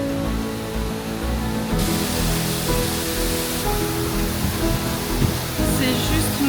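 A small waterfall in Munduk, Bali, rushes in a steady, dense hiss of splashing water, close and continuous, with no pauses.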